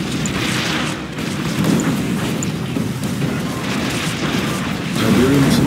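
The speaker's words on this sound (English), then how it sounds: "Tiberium explosion detected." Tiberium explosion in the Command & Conquer 3: Tiberium Wars Kane Edition skirmish, a sustained rumbling boom with dense low-end roar that swells again near the end, loud and continuous with no talk.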